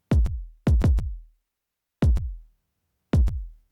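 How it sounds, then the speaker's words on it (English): Unprocessed kick drum slices from a stem-separated drum section, a handful of short punchy thumps with some crunchy high-end bleed, sounded singly and in quick pairs with gaps of silence between. "I sliced out a bit, like a 1 kick out from the stem separated drum section here"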